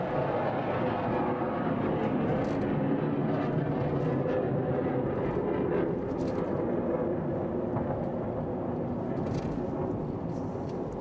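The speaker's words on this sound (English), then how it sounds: "So you can hear the plane taking off." A military jet taking off from Oceana Naval Base and passing overhead, a loud, sustained broadband roar that fills the whole clip without letup, dense and steady with no break.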